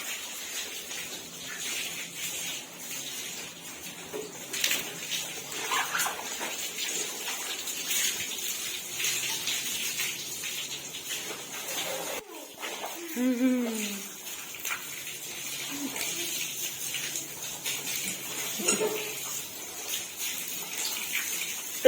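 Water gushes and splashes while a motorbike is washed by hand, intermittent pouring and sloshing close by, with voices chatting at times over the water.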